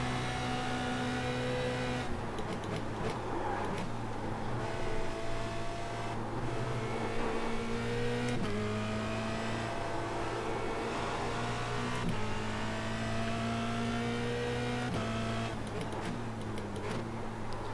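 A Formula Renault 2.0 race car engine drones steadily at Spa in the iRacing sim, its pitch climbing through each gear and dropping sharply on shifts. The sound stays loud and continuous throughout.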